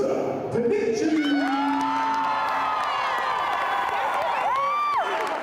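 A crowd of hundreds of fans cheers and shouts in a gym at a volleyball benefit game on the Whitewater campus. The cheering is loud and sustained, with whoops rising above it and a voice talking over the noise.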